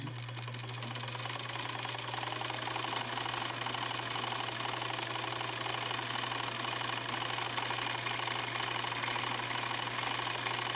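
A vintage all-metal Bernina sewing machine stitching steadily, a fast, even mechanical chatter over a constant low motor hum that runs without pause and without voices.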